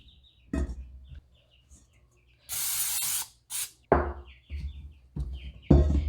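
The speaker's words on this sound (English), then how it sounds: "plop it in a preheated bowl with some cooking spray" Two bursts of hissing from an aerosol cooking spray into a preheated bowl, one longer and one short, amid knocks and clatter of the bowl being handled.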